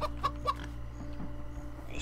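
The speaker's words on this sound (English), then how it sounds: "I've scared chickens." Chickens clucking in the video game Minecraft Story Mode, two short sharp clucks close together near the start, then a steady low hum with faint scattered sounds.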